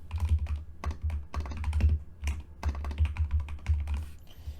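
Rapid typing on a computer keyboard while writing program code, a steady run of close, crisp key clicks in short bursts with brief pauses and no talking.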